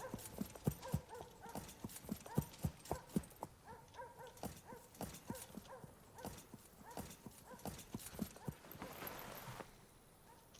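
Rapid clip-clop of horse hooves galloping in the Wild West Online video game, a steady run of sharp hoofbeats close up with a brief burst of wind-like noise near the end.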